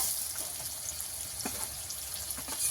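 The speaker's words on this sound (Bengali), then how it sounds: "রসুনটাকে আমি পেঁয়াজের সঙ্গে ভালো করে ভেজে নেব।" Garlic paste frying with browned onions in a pan gives a steady, soft sizzle, with occasional stirring scrapes and pops close by.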